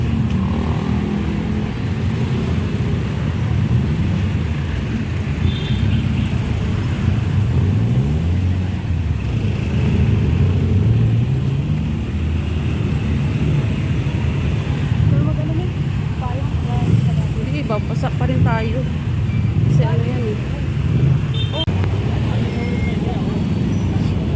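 Dense road traffic during a 5 p.m. rush, heard from inside a vehicle making a turn onto a big road: a steady low rumble of engines and passing cars continues throughout, with people talking over it.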